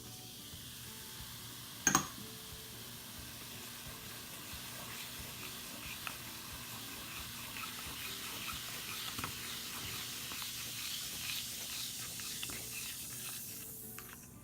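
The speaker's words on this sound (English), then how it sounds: "This is a vinegar and baking soda mixture." Vinegar and baking soda mixed as an egg substitute for vegan funfetti sugar cookies, a faint steady fizzing hiss that slowly builds, with a brief clink near the start.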